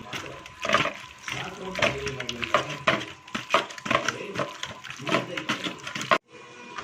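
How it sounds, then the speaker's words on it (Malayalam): Chicken shawarma marinade of yogurt, lemon juice and spices being mixed in a bowl, with a wet, squelching stir and spoon scrapes in steady strokes, close by, ending abruptly. "ഇനി നന്നായി ഒന്ന് മിക്സ് ചെയ്ത് കൊടുക്കാം."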